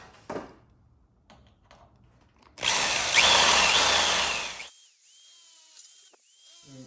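A power drill with an 11/32 bit opens up pilot holes while installing a Levelok quick connect ladder leveler: light taps first, then one loud whirring burst of about two seconds, followed by a fainter winding-down whine.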